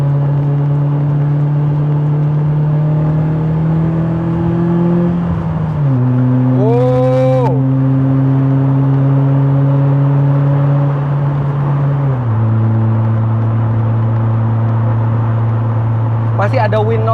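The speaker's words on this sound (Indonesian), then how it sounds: "Raungan mesinnya masih enak sekali." Loud, steady engine note from a BMW M3 E30 Sport Evolution under way, pitch stepping down twice as gears change, with a brief rising whine midway and wind noise throughout; someone talks over the engine.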